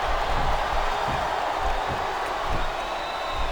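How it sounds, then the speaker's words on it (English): A crowd chanting in the wrestling video game WWE SmackDown vs Raw 2007: a steady arena roar with a faint rhythmic pulse, heard alone without commentary. "listen to that chant, Taz."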